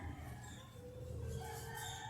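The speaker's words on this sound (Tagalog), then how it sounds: "naririnig niyo yung tilaok ng manok" A rooster crows from a neighbour's yard near a small park at early morning, a faint, distant call with bird chirps around it and a low outdoor hum beneath.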